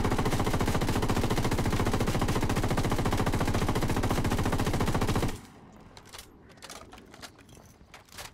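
Sustained rapid automatic gunfire in Ghost Recon Wildlands hammers loudly and steadily for about five seconds, then cuts off abruptly, leaving quieter scattered clicks and ambient game noise.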